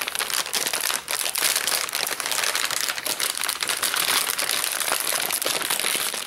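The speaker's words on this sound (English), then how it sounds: "hidden under this flap, I just peeled it back" The flap of a Chips Ahoy cookie package is peeled back with a continuous crisp crinkling and crackling of plastic wrapping, close and fairly loud, with no talk.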